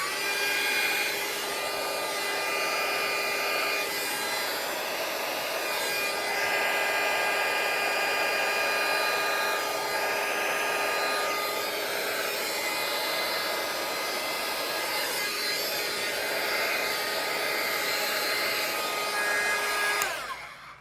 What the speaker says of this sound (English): So Here I have a heat gun, and I'm going to turn it on.